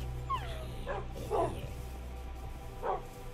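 A few short video-game dog barks and yips, spaced apart at moderate distance, over a steady low hum.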